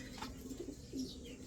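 Pigeons coo softly in short, low, throaty notes, several calls spread across a quiet background, faint and close, with no talking.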